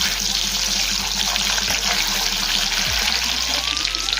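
Boiled eggs frying in hot oil in a pan, a loud steady hiss and sizzle filling the scene close up, with faint clinks of the pan and no talk.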